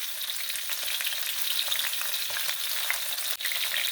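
Shrimp for buttermilk prawns frying in hot oil, a dense, steady close sizzle with scattered crackles and pops, continuous and loud with no one talking.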